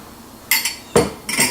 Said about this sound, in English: So to start, add a cup of applesauce.